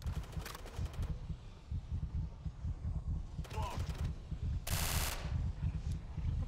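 Gunfire from the video game Jonathan Kane: The Protector, bursts of rapid shots repeating over a low throbbing background, moderately loud, with a few sharper bursts standing out.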